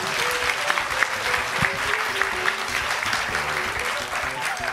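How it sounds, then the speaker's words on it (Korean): Dense applause from an audience at a Christian musician contest final in a church, steady and full throughout, with faint crowd murmur beneath. "최선을 다해서 해주신 여러분들께 큰 박수를 보내드리겠습니다"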